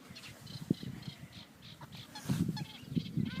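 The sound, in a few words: ducks being fed maggots while fishing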